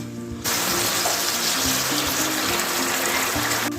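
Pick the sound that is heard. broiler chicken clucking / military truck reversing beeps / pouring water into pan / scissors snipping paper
pouring water into pan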